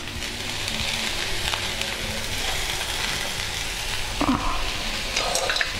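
Vegetables and tomatoes sauté in a pan for a South Indian dish, giving a steady, close sizzle with occasional stirring scrapes and a brief clatter near the end.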